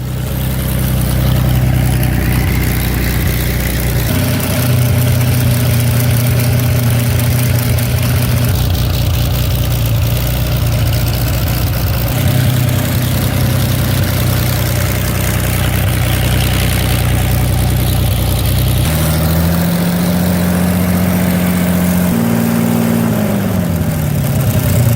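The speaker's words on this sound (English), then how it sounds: "This 12-cylinder diesel engine is known for its strong performance, reliability, and fuel efficiency" A 12-cylinder diesel engine from heavy machinery and military use idles loudly and steadily, a continuous low rumble whose pitch shifts slightly a few times, with no voices present.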